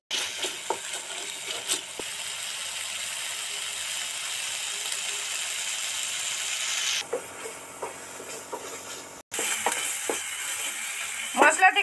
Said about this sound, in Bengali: ধরে ধরে মশলাটা একটু কষতে লাগবে যতক্ষণ না তেল ছেড়ে যায়